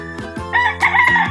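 A rooster crows loudly and close by in a small backyard poultry yard, one full cock-a-doodle-doo rising and holding over a short clucking lead-in, with no talking.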